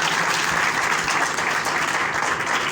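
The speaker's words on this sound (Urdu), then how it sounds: "تو آپ کی تالیاں بتائیں گی کہ یسوع نے فتح پائی ہے" A church congregation applauds loudly and continuously, a dense wash of clapping hands filling the room from start to finish with no pause.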